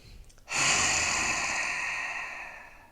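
A single loud, forceful exhale through the open mouth with the tongue out, as in a yoga lion breath, a breathy roar-like rush that starts abruptly after a soft intake and fades slowly over a couple of seconds.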